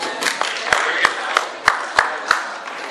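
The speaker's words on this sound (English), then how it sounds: "If you can hear me, clap your hands." Audience at a 2012 baseball banquet clapping hands in unison, about eight sharp, evenly spaced claps in a steady rhythm over a murmuring room.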